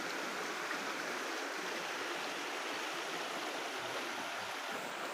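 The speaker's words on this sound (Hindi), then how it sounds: "सारा जंगल इसी तरीके से है और ये इसका झरना जो बह रहा है।" A waterfall flows through the forest near Karagal village in the Kalash valleys, a steady, dense rushing roar that fills the scene evenly throughout, with no talking.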